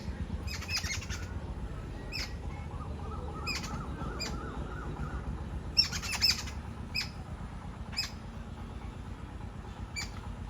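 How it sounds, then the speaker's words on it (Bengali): Common myna birds call around a rural house among areca and coconut trees, giving scattered short chirps and squawks at moderate distance over a steady outdoor background hum. "আমাদের বাড়িতে প্রচুর পাখি আছে অনেক শালিক পাখি আছে"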